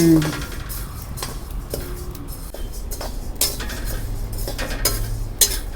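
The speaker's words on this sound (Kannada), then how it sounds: "ಒಂದೇ ಉರಿಲಿ ಒಂದು ಸಮಾಗಿ ಹುರಿಬೇಕು. ಸೀಸ್ಬಿಡ್ಬಾರ್ದು, ಕೆಂಪಗೆ ಹುರಿಬೇಕು." Spices for sambar powder, including coriander, fenugreek, asafoetida, urad dal, chana dal and cumin, are stirred and dry-roasted in a pan, giving light scraping and clinking of a utensil against metal under steady background noise, with a voice present.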